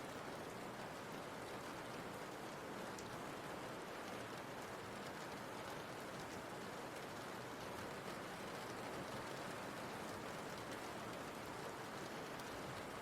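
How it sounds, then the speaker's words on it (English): Steady, dense rainfall fills a video game's wetlands area as a continuous hiss of drops on surfaces, even and unbroken, with no voices. "Raining in the wetlands with rain sound effects."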